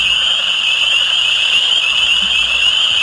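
Many frogs croak together in a dense, continuous chorus heard in woods, a steady high-pitched trilling wall of sound with no gaps, loud and unbroken throughout.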